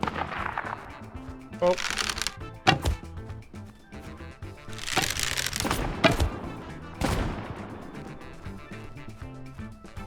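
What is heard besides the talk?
gunfire in a duck survival video game PvP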